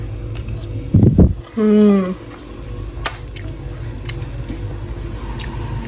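Close chewing and squishing bites of beef pulao with green chilies, wet and soft, with a short spoken phrase partway through and quieter mouth sounds after.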